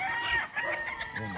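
Chickens cluck and a rooster crows nearby in a short burst at a gamefowl breeding setup, with hens chattering over one another.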